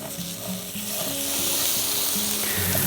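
Butter sizzling steadily in a pan as garlic goes in for a pea soup, a close, continuous frying hiss with no talking.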